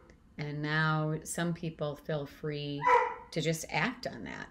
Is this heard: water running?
no